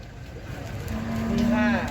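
Cattle tied up on a full truck at the Ban Khwao livestock market in Chaiyaphum, Thailand, give a deep, drawn-out moo that swells near the end over a steady crowd murmur.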